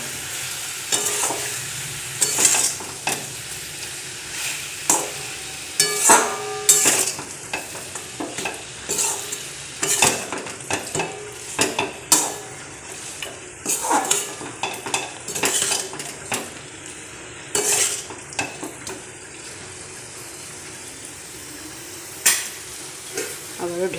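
Chicken kosha with salt is stirred in a pan, with a utensil scraping and clinking against the metal in irregular strokes over a soft, steady sizzle, close and without voices.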